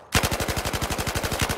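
M249 SAW machine gun in Battlefield 4 rattling off a steady, loud sustained burst of rapid evenly spaced shots, close and alone with no talk.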